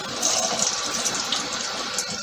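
Tap water runs steadily in a kitchen, rinsing something off while a brown-sugar spice rub is prepared for a slow cooker whole chicken, a close hissing flow that lasts about two seconds.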